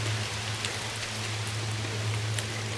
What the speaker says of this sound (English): Ooh, there's the rain.